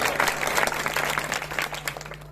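Audience applause at a large Hindi poetry gathering (kavi sammelan), steady dense clapping from a crowd with a constant low electrical hum running underneath throughout.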